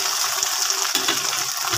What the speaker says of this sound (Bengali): গ্রিন চিলি সসটা দিয়ে আমি আবার একটু মিক্স করে নেব।